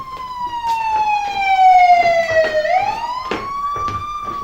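Wailing siren of a fire engine, its pitch sweeping steadily down then rising again, loud and close with a harmonic tone throughout.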